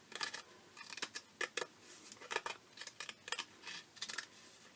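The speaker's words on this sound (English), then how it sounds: "some of these little scissors, decorative edge scissors" Small decorative edge scissors snip through paper in a quick irregular series of crisp, faint cuts, close up and with no talking.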